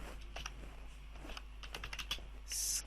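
Keys clatter on a computer keyboard as text is typed into a file, in light, irregular clicks over a low steady hum. The typing is close but soft, with a brief brighter hiss near the end.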